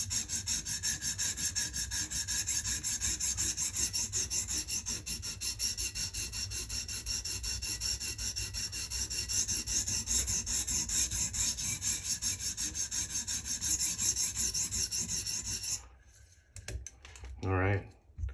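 Steady rasping strokes of a knife edge on a 150 grit stone in a TSPROF Kadet Pro guided sharpener, continuous and close for about fifteen seconds, then stopping, with a brief quiet voice near the end.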